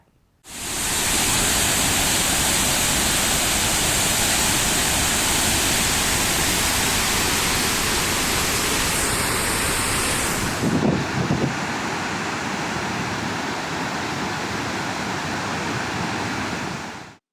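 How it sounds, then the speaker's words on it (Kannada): A loud, steady roar of water rushing from two opened spillway gates of Kadra dam fills the scene, broad and constant, with a brief low rumble near the end before it continues slightly softer. "ಜಲಾಶಯದ ಎರಡು ಗೇಟ್ ತೆರೆದು ನೀರು ಹೊರಬಿಡಲಾಗಿದೆ"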